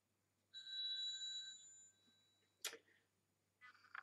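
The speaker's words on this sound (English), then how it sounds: "Now that's my phone." A mobile phone rings with a sustained electronic tone that holds for over a second. It is followed by a sharp click and a brief burst of chirping tones, heard alone in a quiet room at moderate volume.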